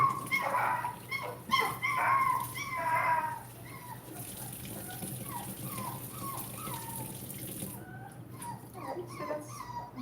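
A Nova Scotia Duck Tolling Retriever puppy whimpers and yips during its first bath, high plaintive cries repeating at close range over running water and background hiss.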